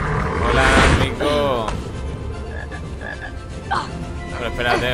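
In the Harry Potter and the Chamber of Secrets video game, a chocolate frog gives several loud, rough croaks near the start, then quieter ones with short chirpy calls, while someone talks over them.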